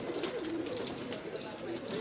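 Akola Amravati breed pigeons at a pigeon-flying tournament coo in soft repeated low rolls, close by, over steady ambient noise with faint chatter.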